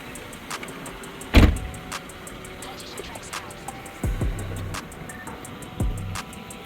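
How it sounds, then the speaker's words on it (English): A Toyota's sunroof motor whirs open in short, close bursts, punctuated by sharp mechanical clicks and clunks, against a quiet interior background. "I had never tried to open the sunroof or the top. So we're gonna see right now."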